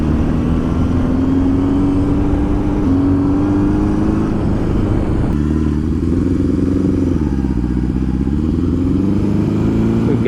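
Barn-find Honda CB750 motorcycle engine idling abnormally high, a steady loud drone with a raspy exhaust note that dips and recovers midway, close by and running continuously.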